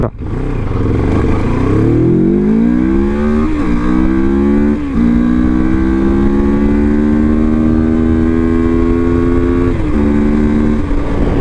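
A 2024 CFMoto 700MT motorcycle engine on a first ride, loud and close, revving up through the gears with brief dips at each shift before settling into a steady drone.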